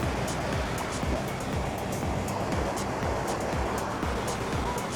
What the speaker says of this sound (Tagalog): Ang lakas ng agos eh.